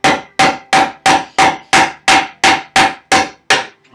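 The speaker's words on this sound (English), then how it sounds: "Just kind of chisel chunk this away." Hammer driving a chisel into stone to chunk away waste while shaping a treadle stone well, eleven sharp ringing strikes in a steady, even rhythm, loud and close with no talking.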